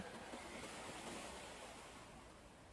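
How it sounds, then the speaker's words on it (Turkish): Sea waves wash gently onto a beach in a soft, continuous hiss, faint and distant-sounding, with no voices. "ayaklarınıza çarpan dalgaları hissedin."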